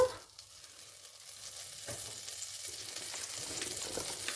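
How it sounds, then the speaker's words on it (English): Butter melts in a pot over the heat, giving a soft, steady sizzle that grows slowly louder, with a faint clink near the start. "on a pot I will add butter"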